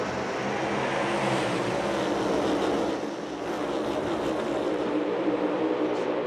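NASCAR Cup race cars start at Talladega with a broad, continuous engine roar, a dense sustained drone that dips briefly midway and then carries on.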